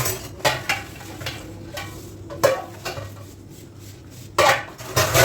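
Large metal utensils are scrubbed with detergent soap, giving intermittent clanks and scrapes of metal against metal with soft swishing in between, close and fairly quiet.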